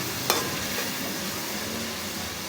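Chicken and tomatoes being bhuna-fried in a pan, a steady soft sizzle throughout with one brief stir or scrape near the start, no voices.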